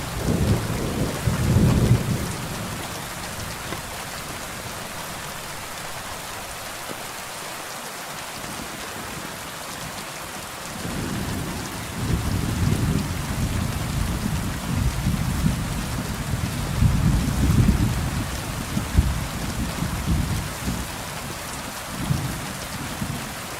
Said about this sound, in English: Thunderstorms in this game sound amazing.